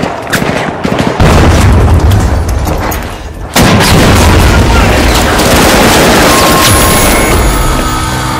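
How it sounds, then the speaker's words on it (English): Frag grenade blasts in the video game The Finals: two loud, close explosions about two seconds apart, each a sharp burst that rolls into a long, heavy rumble, with scattered gunfire-like pops layered over the din. "Frag grenade out."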